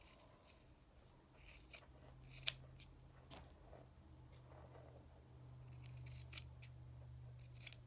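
Scissors trim macrame keychain cords close by, a few quiet crisp snips with light handling rustle over a low steady hum.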